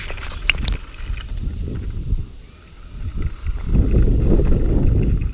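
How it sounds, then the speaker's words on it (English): Strong outdoor wind buffeting a microphone while a tiny drift drone is flown, heavy low rumbling gusts that swell louder toward the end, with no talking. "Now the wind is really kicking."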